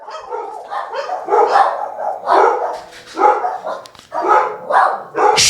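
Several dogs in a home bark loudly and repeatedly at close range, in rough bursts that fill the whole stretch with no talk over them.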